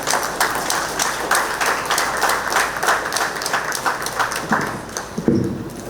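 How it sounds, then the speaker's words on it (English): An audience applauds a speaker at a community outreach meeting in a civic centre, with brisk, sustained clapping from many hands that thins toward the end, and a few sharper claps close by. "Let's have a bigger round of applause"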